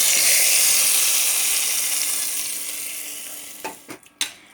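Potatoes for a potato roast sizzle loudly in a hot pan, a broad steady frying hiss that slowly fades, followed near the end by a few sharp scraping knocks of stirring.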